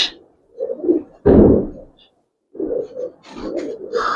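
Coloured Giribaz pigeons give low, close coos in short repeated phrases, broken by a brief thump and a pause.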